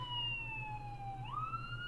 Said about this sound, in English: Wow, ambulances.